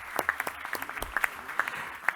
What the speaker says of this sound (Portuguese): Queria uma salva de palmas ao Adir.